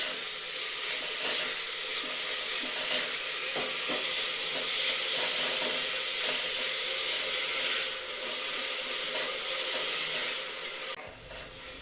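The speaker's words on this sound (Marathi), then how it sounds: "गूळ चांगला परतून घेऊया आपण।" Jaggery being sautéed in a pan for coconut rice, a loud continuous sizzling hiss with faint stirring scrapes underneath, ending abruptly.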